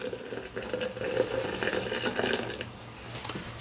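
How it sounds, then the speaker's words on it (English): A gooseneck kettle pours a slow, steady stream of water onto coffee grounds in a French press, a continuous close trickling splash with no talking. "the gooseneck doesn't pour very fast, and you can watch what you're doing and make sure it's all covered"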